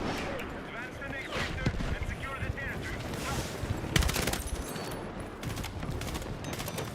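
Rapid bursts of gunfire crackle through a Battlefield 6 firefight, with a sharp loud volley near the middle, while a voice talks over the dense background of shots.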